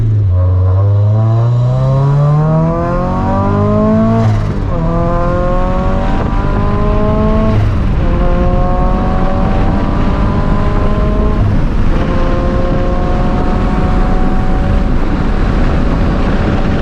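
A Greddy turbocharged FRS sports car pulls hard through third gear, engine note climbing steadily in pitch through repeated long sweeps, loud and close with constant road and wind roar underneath.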